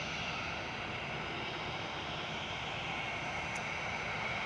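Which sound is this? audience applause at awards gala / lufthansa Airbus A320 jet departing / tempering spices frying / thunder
lufthansa Airbus A320 jet departing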